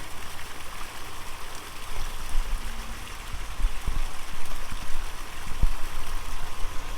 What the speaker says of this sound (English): we got an amazing water feature right here